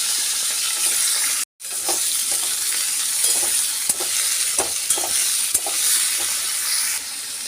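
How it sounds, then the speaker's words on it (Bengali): Chopped vegetables, including Malabar spinach, fry with salt in a pan over panch phoron for a fish-head chorchori. A steady close sizzle carries scattered stirring scrapes and clicks, and the sound briefly cuts out once. "এর মধ্যে আমি লবণ দিয়ে হালকা করে ভেজে নেব"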